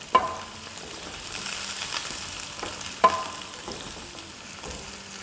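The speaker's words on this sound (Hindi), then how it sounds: "अब आलूओं को प्याज को सौटे करेंगे 2-3 मिनट।" Potatoes and onions sauté in a hot pan with oil and garam masala for biryani, a steady soft sizzle punctuated by two sharp clinks of a spoon against the pan.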